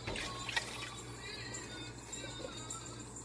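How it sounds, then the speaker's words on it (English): Water is poured into a pot of vegan tortilla soup, making a faint, steady splashing trickle that runs throughout. "I'm going to add a little bit of water, though."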